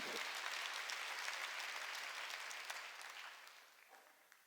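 Church congregation applauding during a sermon, a dense wash of clapping that holds steady and then fades out toward the end, fairly faint and distant.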